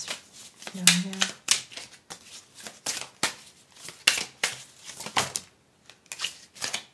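Tarot cards being shuffled and drawn, heard as quick papery riffles and snaps in short bursts, close and fairly quiet, with a brief soft voice partway through.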